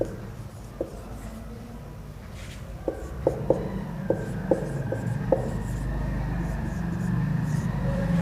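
Marker or chalk writing words on a board during an English grammar lesson, a steady rubbing scratch with several sharp taps of strokes, close and moderately loud under room hum.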